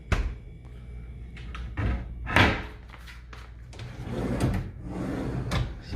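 A few muffled thumps and slides of a drawer being opened and shut in a hotel room, close by, with faint room noise between.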